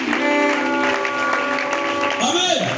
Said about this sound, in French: Acclamez aussi le Seigneur Jésus-Christ.